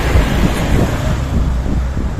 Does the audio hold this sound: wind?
yes